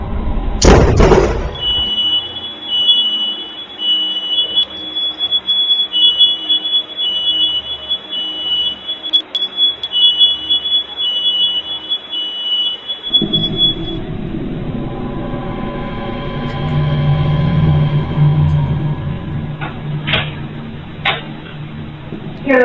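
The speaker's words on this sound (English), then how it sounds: "the fire alarm activated straight away." A home fire alarm sounds right after a lightning strike and power outage, a steady high electronic tone running under background noise before louder clatter and commotion take over.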